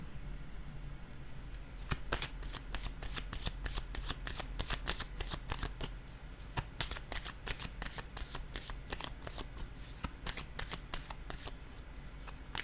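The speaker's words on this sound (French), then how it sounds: "Je vais piger une autre carte ici." Tarot cards shuffled by hand in a steady run of crisp riffling flicks, close and fairly loud throughout, with no talking over it.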